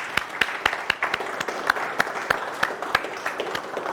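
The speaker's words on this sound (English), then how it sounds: "Because we're going to give you a round of applause." A small audience at a SMPTE Toronto Section meeting applauds sponsors with sparse, distinct claps in a quick steady rhythm, moderately near and fairly quiet.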